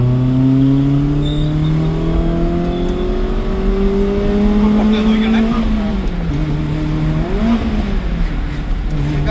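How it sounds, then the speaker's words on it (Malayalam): A modified Maruti Zen Carbon revs and accelerates loudly nearby, pitch climbing through gears, with crackling pops from the exhaust as it eases off. "ക്രാക്കിൾസ് കേൾക്കാൻ പറ്റുന്നുണ്ടോ"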